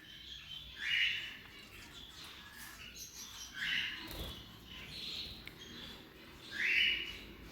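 Canaries chirp in a cage with their chicks, with three brief bright calls spaced a couple of seconds apart over a soft steady background hiss.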